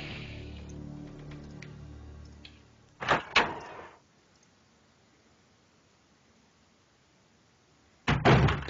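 Resident Evil 2 doors unlock and swing open: a sharp mechanical clack and creak around three seconds, a long quiet stretch, then another loud door burst at the end, following a fading low rumble.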